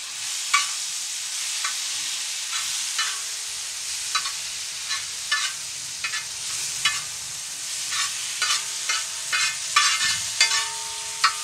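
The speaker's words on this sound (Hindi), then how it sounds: "इसे थोड़ा सा 5 से 7 मिनट हम इसे फ्राई करेंगे कवर करके" Small prawns frying in a pan crackle and hiss steadily, with regular scraping taps of a spatula stirring them, close and with no talk.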